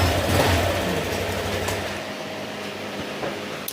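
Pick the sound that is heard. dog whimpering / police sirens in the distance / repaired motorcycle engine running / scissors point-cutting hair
repaired motorcycle engine running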